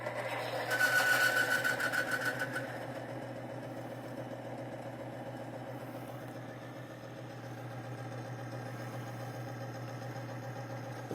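Timken bearing test machine with a failing bearing after grease is rubbed onto the race: a steady low mechanical hum with a brief louder, raspier whir near the start that settles into a quieter even drone.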